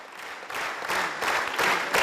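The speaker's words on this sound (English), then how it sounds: "You can hear the sustained and enthusiastic applause from those present as the President and our Holy Father leave the stage together" Enthusiastic applause from officials at a civil authorities meeting in Azerbaijan as Pope Francis and the President leave the stage, a steady, moderately distant wash of many clapping hands lasting two seconds, no voices.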